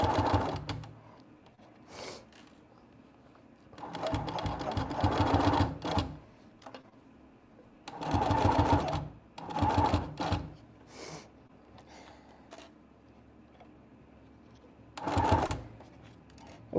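A sewing machine stitches fabric for a Christmas satchel in bursts of rapid, close mechanical whirring, with four or five runs of stitching separated by quiet pauses and small clicks.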